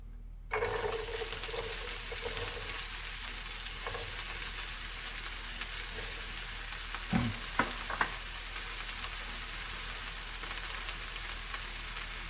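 Chopped white onion frying in a hot pan, a steady close sizzle beginning sharply and continuing throughout, with a couple of brief clinks of a utensil stirring partway through.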